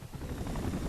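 A helicopter rotor drones steadily and loudly throughout the one-second stretch of a Spider-Man 3 video game, a dense, churning whir with no other sounds breaking through.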